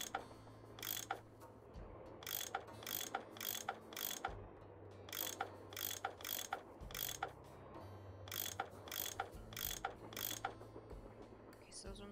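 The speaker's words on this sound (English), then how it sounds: "I bet that's what you use to unscrew these bolts" Repeated ratcheting clicks from a tool turning bolts on pipes in the Nancy Drew: Last Train to Blue Moon Canyon game, coming in steady bursts of mechanical ticks over a low background hum.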